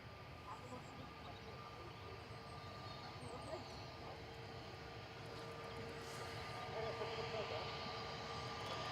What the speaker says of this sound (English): So we've got EasyJet departing to Paris Charles de Gaulle, Ryanair to Dublin behind it